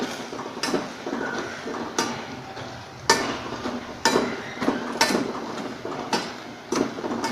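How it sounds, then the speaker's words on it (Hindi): Cooked, softened turnips are mashed in a pot, giving a steady series of dull knocks and scrapes of the masher against the pot bottom, roughly one every half second to a second, with no talking. "ये शलजम अब गल के तैयार हो चुके हैं, इनको मैं ऐसे मैश कर लेती हूँ।"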